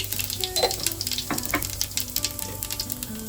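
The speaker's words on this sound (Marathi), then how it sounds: "याच्यामध्ये आपण जिरं घालणार आहोत सर्वात आधी" Cumin seeds sizzle in hot oil for chicken biryani, a close, crackling fry with dense popping and spitting throughout.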